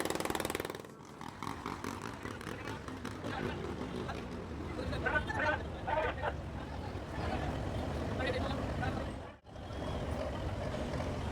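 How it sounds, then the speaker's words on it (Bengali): The Karnaphuli 4 passenger launch nears a river ghat on the Buriganga, its engine a continuous low rumble with a brief tonal whine midway and a short dip near the end, under faint background voices. "হঠাৎ দেখলাম পিছন থেকে কর্ণফুলীর 4 লঞ্চটি ঘাটের দিকে এগিয়ে আসছে"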